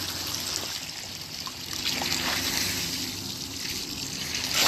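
Water from a leaking 249,500-gallon tank drains out in a steady, strong flow, a continuous close rushing and trickling with no talk over it.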